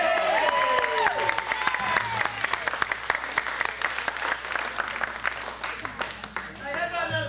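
A party crowd gives a steady round of applause with dense clapping throughout, while a voice speaks over it at the start and again near the end.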